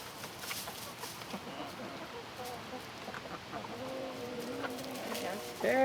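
Chickens gathered at a DIY automatic feeder cluck in short, repeated calls that grow clearer toward the end, over a constant backdrop of farmyard noise.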